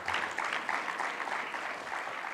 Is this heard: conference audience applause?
yes